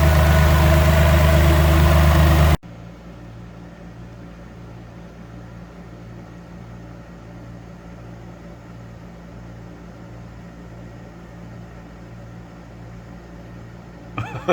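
A loud burst fades into a car engine idling steadily, with a low, pulsing, tonal hum running evenly underneath for several seconds.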